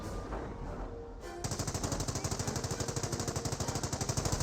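Rapid, evenly spaced bursts of autocannon fire from the high ground in Company of Heroes 1, a steady loud stream of shots after a brief quieter lead-in, with no talk over it.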